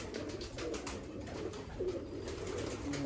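Pigeons cooing on a rooftop loft, dub-type pigeons of the Mian Nazir bloodline including a female, giving soft repeated throaty coos close by over a steady background hum.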